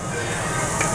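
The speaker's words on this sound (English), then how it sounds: "So good to hear that sizzling once again." Steady, dense sizzling of brisket on a hot Korean barbecue grill, a continuous crackling hiss close by with no talking.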